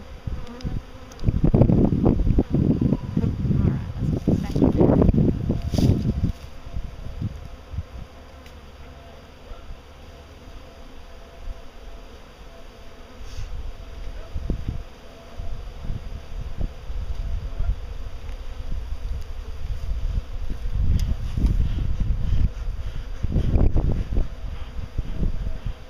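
Honeybees buzzing around an opened hive, a dense droning swarm that swells loud and close in bursts, with wind rumble on the microphone between them.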